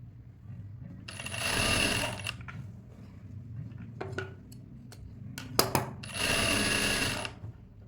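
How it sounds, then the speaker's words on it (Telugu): A sewing machine stitches a princess-cut blouse in two sustained whirring runs, separated by quiet stretches with scattered clicks and taps of handling. "చూడండి, ఇలా స్టిచ్ చేసుకోవాలి."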